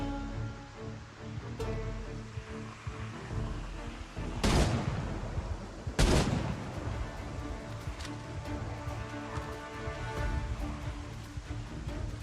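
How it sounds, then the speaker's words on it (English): Shotgun fired back to back in Project Zomboid, two sharp loud blasts standing out over a busy rumbling game bed with fainter shots around them. "I'm just firing a shotgun back to back to back to back."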